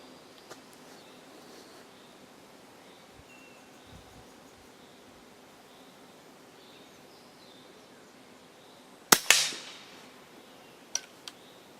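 A single sharp, loud shot from an EDgun Leshiy air rifle in a quiet outdoor setting, followed by a faint distant impact and a couple of small clicks.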